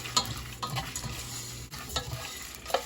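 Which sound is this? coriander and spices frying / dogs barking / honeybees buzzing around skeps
coriander and spices frying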